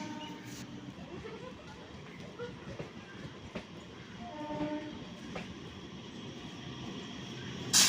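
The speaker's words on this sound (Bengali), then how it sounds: "মাঝেরহাট নামখানা লোকাল চলে গেল" A Majerhat–Namkhana local train passes a station near Prinsep Ghat, Kolkata, a steady low rumble of wheels and carriages with faint clicks, moderately distant, running throughout with a brief louder burst at the end.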